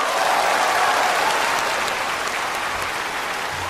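A concert audience applauds a male singer: loud, dense, steady clapping from a large crowd that fades slightly toward the end, with no talking.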